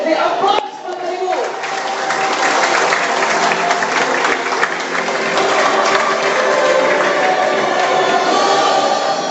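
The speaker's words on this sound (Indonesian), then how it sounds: "Di aplaus Bapak Ibu." Indoor audience at a business seminar breaking into sustained applause, a loud, dense wash of clapping that swells after a second and carries on steadily with some crowd noise.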